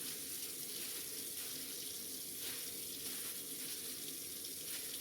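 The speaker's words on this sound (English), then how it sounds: "Get all that milk out of there," Buttermilk pressed and squeezed out of a lump of homemade butter, giving a steady, continuous wet squelching and trickling of liquid, close and constant with no talking.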